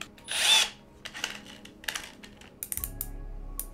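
A power drill with a 1/8 inch bit enlarges the mounting holes of a Raspberry Pi board for a Turtlebot3 Waffle Pi. A short whirring burst comes first, followed by scattered clicks and taps, close up, with no talking.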